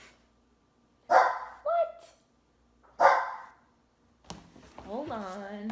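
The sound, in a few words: dog barking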